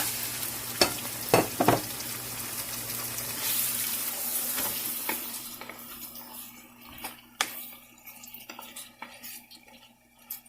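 Beef meat sizzles as it fries for biryani with ginger paste in a pot, a loud hiss that fades over time, broken by sharp clinks and scrapes of a spoon as it is stirred.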